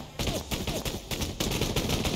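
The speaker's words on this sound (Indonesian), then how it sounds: "Nembak dari belakang." Gunfire from a video game sniper duel, dense and sustained over the whole stretch, loud and close with several bursts of shots running together and no talk over it.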